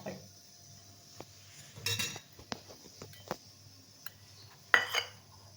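A spoon or whisk clinks against a bowl while milk powder and cornflour are stirred into cold milk for kulfi, giving scattered light metallic taps and a few louder knocks over a quiet kitchen background.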